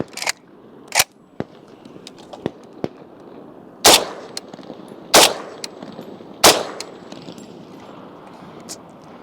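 Russian Dragunov rifle fired outdoors, several sharp loud cracks spaced a second or more apart, with smaller metallic clinks of ejected casings between shots and no talking.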